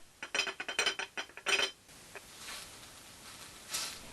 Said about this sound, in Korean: 유리잔 위에 접시를 덮어 마찰음을 내고요